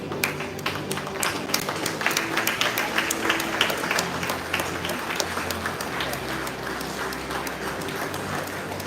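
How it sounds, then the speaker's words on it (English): An audience applauds students at a 2022 merit award ceremony, a steady, dense wash of clapping from a large crowd that continues unbroken throughout. "Give these students a huge round of applause."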